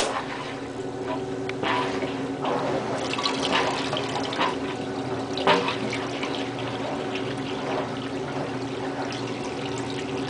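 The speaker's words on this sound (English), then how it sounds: "It ain't draining in the tub, it's draining through holes to the floor here." Water from a Maytag washing machine on its drain cycle runs out through holes onto the floor, a steady close wash of pouring and dripping that continues without a break.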